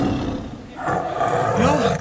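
A tiger roars loudly and at length in a comedy sketch, a sustained, rough, powerful roar filling the whole stretch with no talking over it.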